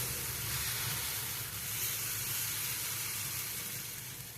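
Chilla batter cooking in oil on a hot pan, a dense, even sizzle and hiss that holds steady throughout, fading slightly at the end, with no talk.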